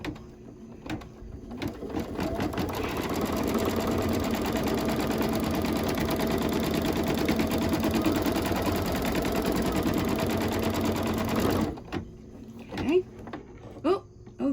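Embroidery machine stitching an appliqué outline around a pipe shape on a Halloween quilt block, a steady rapid mechanical whir with rhythmic needle clatter for most of the clip, stopping near the end before a few clicks and handling bumps.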